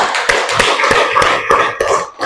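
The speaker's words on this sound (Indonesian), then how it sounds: "tepuk tangan buat kalian semuanya" Students in a classroom clap for their classmates, a handful of close, sharp hand claps landing in a loose rhythm with no talk.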